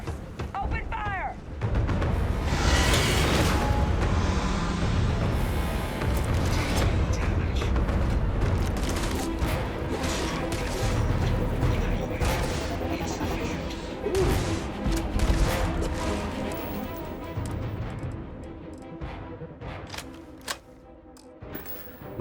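Gunfire and explosions in the video game Starfield, with dense, loud booming blasts and crashing impacts in a sustained barrage that tapers off toward the end, while a voice talks over it.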